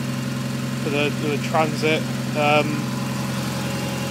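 A steady low van engine idle rumbles throughout, close and constant, while someone speaks briefly over it.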